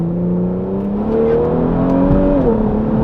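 A Kia Stinger with a JB4 tune accelerates under partial throttle, its engine whirring up close in a rising pitch and then easing off as it short-shifts.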